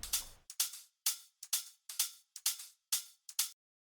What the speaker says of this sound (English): Then we've got this hat loop.